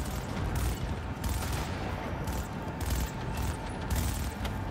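Gunfire during a firefight in the video game Cyberpunk 2077: Phantom Liberty, a dense, continuous barrage of rapid overlapping shots that stays steady and fairly quiet throughout, with no talk.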